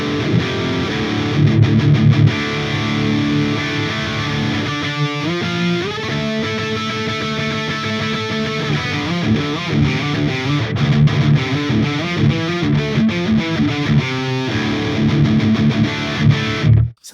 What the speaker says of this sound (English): Let's check out Ola's tone